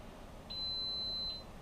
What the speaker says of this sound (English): You see it beeped at me because I turned it off when it lost connection.